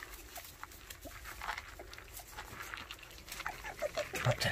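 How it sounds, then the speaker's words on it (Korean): Several young white Jindo-type puppies whimper and whine faintly while eating their first food, with soft yelps and patters rising toward the end over a low background hum. "낑낑거리지 말고 밥 먹어라, 얘들아"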